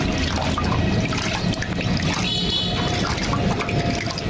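Water is poured over pigeons to bathe them, a continuous splashing trickle with faint background voices and ambient noise.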